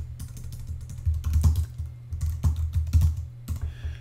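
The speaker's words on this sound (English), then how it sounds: "let's jump over here and type a very simple SQL command" Fingers type a short SQL command on a computer keyboard, a close, rapid clatter of keystrokes in uneven bursts with brief pauses between them.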